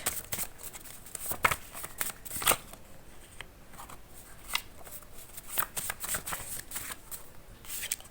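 Tarot cards are shuffled by hand in quick, irregular bursts of crisp riffling and flicking, close and fairly quiet, with short pauses between the runs and no voices.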